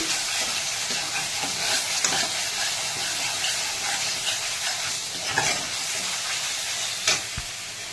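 Masala spices sizzle and fry steadily in oil in a pan, a dense continuous crackle with occasional stirring scrapes, close and fairly loud, no voices.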